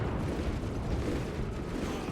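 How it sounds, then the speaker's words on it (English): Artillery cannon fire in the video game Space Marine II rumbles as a continuous dense barrage of booms and blasts, loud and low-heavy throughout, with no talk over it. "Also, artillery cannons."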